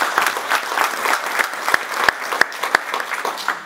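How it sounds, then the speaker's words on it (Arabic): Warm audience applause at a Moroccan zajal poetry festival, a dense burst of many hands clapping close and loud, with a few sharper individual claps standing out near the end. "تصفيقة حارة"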